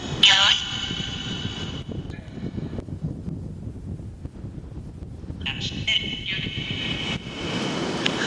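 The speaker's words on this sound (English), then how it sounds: "I'm trying to get out of the wind a little bit" Wind buffets a handheld microphone outdoors in a family cemetery plot, a steady low rumble running throughout with a voice speaking over it.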